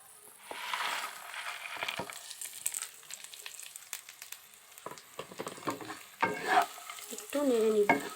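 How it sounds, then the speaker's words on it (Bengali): Cashews and fried onions stirred in a pan over low heat, with spoon scrapes and clinks against the pan over a soft steady sizzle, louder scraping bursts near the end. "এবারে হালকা আঁচে একটু নেড়ে নেব।"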